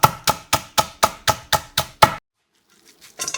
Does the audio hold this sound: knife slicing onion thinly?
yes